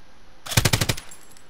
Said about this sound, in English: Oh fuck, I'm getting shot.